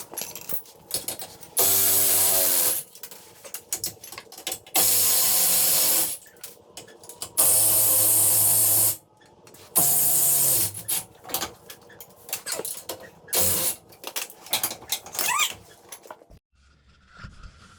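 Bolts being undone to drop the factory sway bar from a Jeep Rubicon, with several loud bursts of power-tool whirring and ratcheting alternating with quieter clanks and handling noise, close up.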